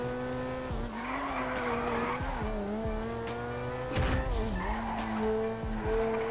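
RX7 race car in GTA V driving hard and skidding, with steady engine whine shifting pitch through gear changes, tire squeal and skid noise, and a loud burst near the middle.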